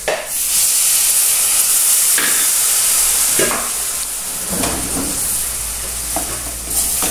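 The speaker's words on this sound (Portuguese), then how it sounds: "Vou colocar mais um pouquinho de água." Water poured into a very hot pan, sizzling and hissing steadily with bursts of steam, while a utensil stirs the mixture in repeated scraping strokes, close and fairly loud throughout.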